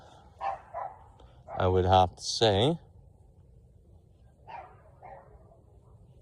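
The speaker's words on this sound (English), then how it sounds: "I still got animals around here to care for, like my dog in the background" A pet dog barks in the background indoors, a few sharp barks and yips scattered across the moment, fairly close, mixed with a person talking quietly.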